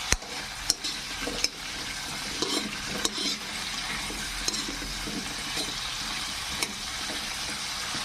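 Potatoes sizzle steadily in a hot pan while cooking goat caldereta, with occasional clinks and stirring scrapes over the continuous frying hiss.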